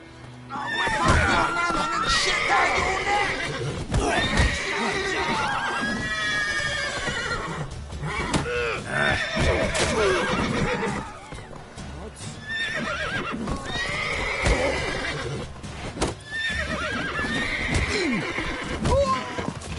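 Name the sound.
horse neighing and hooves in video game The Witcher 3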